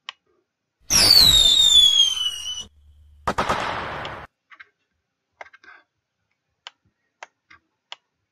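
Synthesized firework bursts from a Python 3D firework simulation: a loud whistling, hissing explosion followed by a second crackling burst, then scattered sharp ticks and pops fading out with silence between them.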